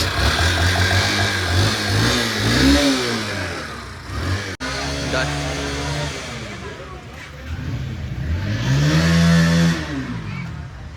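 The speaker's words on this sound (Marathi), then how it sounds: "इसका गाडी चालू नाही होत आहे" A car engine that will not start at a rural hot-spring stop, revving up and dropping back several times, close and loud, with people talking over it.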